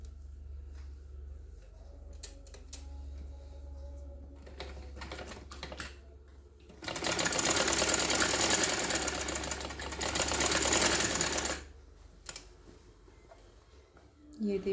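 A sewing machine stitches a girl's trouser in one loud, continuous whirring run of about four seconds, preceded by someone talking and quieter handling sounds nearby.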